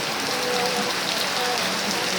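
Heavy rain pouring outdoors, a continuous broadband hiss of drops striking the ground, fairly loud and unbroken throughout.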